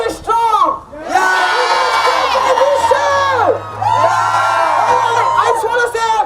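A crowd of students and children cheers, whoops and shouts loudly at an outdoor climate strike rally in Halifax, with two sustained bursts of cheering broken by a short lull.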